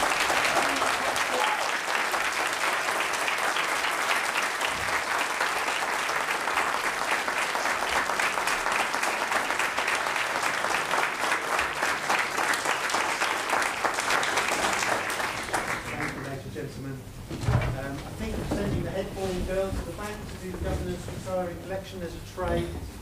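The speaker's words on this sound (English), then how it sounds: "let's give them a huge round of applause" Loud, sustained applause from a large audience at a school carol concert, dense steady clapping for about fifteen seconds before it thins into scattered claps and murmuring voices.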